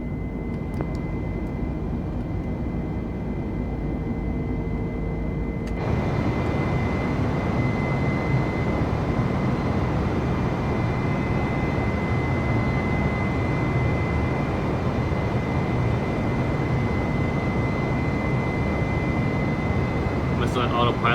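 Airbus A320 jet climbing in Microsoft Flight Simulator, a steady loud cabin-style engine roar that thickens abruptly a few seconds in and then holds as a continuous drone with a faint tonal whine.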